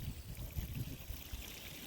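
Water poured onto potted chilli plants, a soft steady trickle and splash close by with a low gurgle, running continuously without talk.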